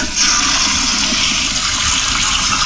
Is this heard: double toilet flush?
yes